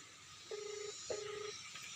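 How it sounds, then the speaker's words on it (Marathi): A phone call being placed: two identical short ringback tones about half a second apart, each a steady low beep, faint over a hissy outdoor background. "आपण फोन लावले"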